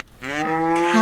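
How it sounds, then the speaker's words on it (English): A cow lets out a single long, deep moo, close and loud, rising and holding steadily for about a second. "Cow."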